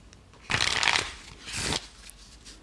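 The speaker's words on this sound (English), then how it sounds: "going to shuffle out some action cards here for Yakeem." Action cards for a tabletop game are shuffled close by in two quick riffle bursts, crisp and fairly loud, with no talk over them.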